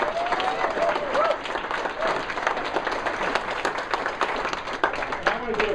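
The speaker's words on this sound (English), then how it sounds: "Give yourselves a round of applause." Applause fills a political party meeting room, a dense steady clapping with cheers and voices rising through it.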